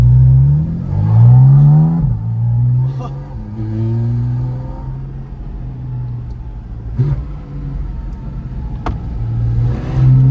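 A G4 RS supercar engine revs hard and close, rising and falling through several bursts with a deep rumbling idle in between, loud throughout.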